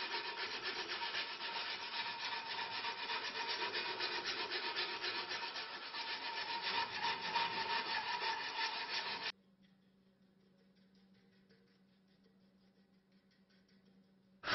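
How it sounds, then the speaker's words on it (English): Sandpaper rubs back and forth over a wooden sword grip in a steady, close, raspy scraping for about nine seconds, then stops abruptly, leaving near silence with a faint low hum. "The grip is then polished using sandpaper."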